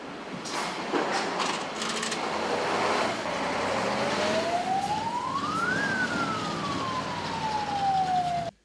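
A fire engine siren wails, rising and falling in long sweeps over steady traffic rumble, loud and fairly close, with no voices.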